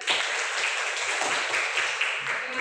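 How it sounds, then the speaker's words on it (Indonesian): A classroom of students clapping on the teacher's request during a lesson in Indonesia; steady, moderately faint applause throughout, without clear speech over it. "Tepuk tangan dulu."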